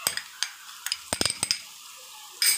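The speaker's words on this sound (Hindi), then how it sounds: "अब मैं इसके अंदर डालूंगी अदरक लहसुन का पेस्ट।" Ginger garlic paste hits light golden frying onions in a pan, giving a crackling sizzle punctuated by a rapid run of sharp spoon clacks against the pan, loud and close.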